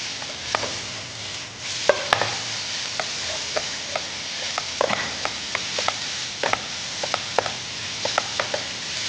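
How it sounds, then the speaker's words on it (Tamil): Paneer is stirred into masala in a hot pan, giving a steady sizzle under scattered sharp taps and scrapes of a spatula against the pan, close and fairly loud. "இந்த பன்னீர் போட்டு இந்த மசாலா நல்லா சாட்டி பண்ணுங்கள்"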